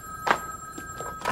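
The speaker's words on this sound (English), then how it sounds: "I get the phone." A telephone rings during a children's TV show party scene, two short bursts of ringing with a gap between, heard at moderate level indoors.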